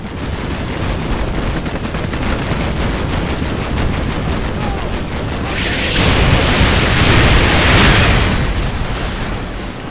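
Dense, continuous gunfire and booming explosions fill a combat battle in Call of Duty Modern Warfare 2, with a louder burst of blasts swelling near the end. No one speaks.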